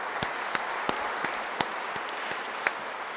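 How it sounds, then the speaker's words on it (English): Steady soft applause from an audience at an endowment lecture session, with a few sharper individual claps standing out at a fairly even rhythm over the continuous patter. "please give me a big clap"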